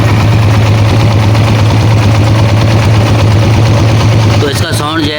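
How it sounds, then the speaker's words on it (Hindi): A Honda CG125 single-cylinder motorcycle engine idling with a worn cam gear, a loud steady low rumble with ticking mechanical chatter, running close and alone before its tone shifts near the end. "बाइक हमने स्टार्ट कर दी है।"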